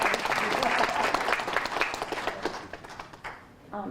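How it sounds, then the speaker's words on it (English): A press-conference audience of a legislative animal welfare caucus breaks into a round of applause, dense and steady clapping that thins and fades toward the end, with some voices mixed in. "ask everybody really to give them a round of applause"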